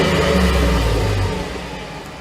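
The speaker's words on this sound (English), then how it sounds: "Maybe you should rev it a little." A new truck's engine revs up briefly, a loud close rumbling surge that holds and then eases off over a couple of seconds, with no talking.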